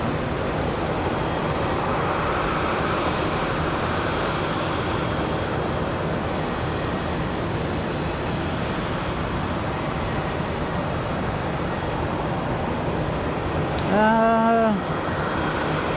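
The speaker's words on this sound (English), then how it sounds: "We've got a Delta coming in, Delta 1518 coming in from Atlanta." A Delta airliner arriving from Atlanta at Raleigh-Durham airport gives a broad, steady jet roar for the whole stretch, loud and sustained. A brief beeping tone sounds near the end.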